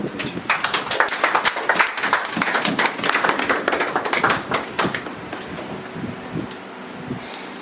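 A church congregation claps together in a loud, steady burst of hand claps that gradually tapers off toward the end.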